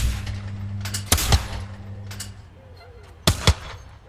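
Shotgun blasts in women's skeet within an Olympic video game: two sharp loud bangs about a second in, then a quick double pair of shots near the end, over a steady low hum.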